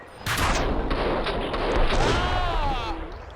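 Gunfire in the video game Max Payne 2, a loud burst of booming shots with a sustained rumbling tail and a ringing tone fading over a few seconds.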